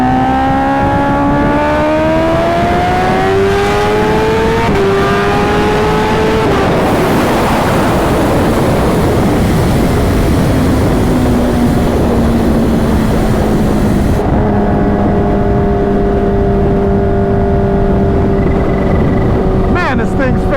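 A supercharged Kawasaki Ninja H2 motorcycle accelerates hard in third gear, its engine note climbing loudly in rising pitch through gear changes, then roaring on under heavy wind rush.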